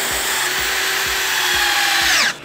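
A power drill whines steadily while driving a screw into wood, with rhythmic ratcheting clicks about twice a second, then winds down abruptly at the end.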